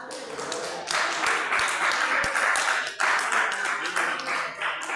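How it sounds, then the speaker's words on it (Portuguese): A church congregation claps during a worship service, with steady crowd clapping throughout and some voices underneath. "Pode bater palmas."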